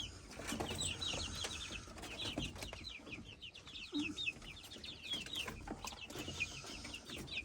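Wyandotte chickens cluck softly in a farmyard, with repeated high bird calls over faint rustling and background noise. No talking.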